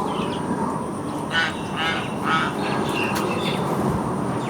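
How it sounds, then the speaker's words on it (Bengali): Ducks at Jhargram quack in a few short nasal bursts against a steady outdoor background hum, moderately distant. "খুব সুন্দর লাগছে হাঁসগুলো।"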